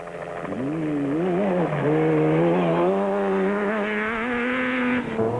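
Special vehicle race trucks pulling away at the start of the Tarka 400 desert race in 2003, a loud engine note climbing steadily in pitch through the gears, near and alone.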